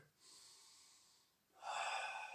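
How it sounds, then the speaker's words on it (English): Two slow, audible breaths during kung fu practice, a softer drawn-out inhale followed by a louder, stronger exhale, close by with no speech. "Be aware when you're breathing."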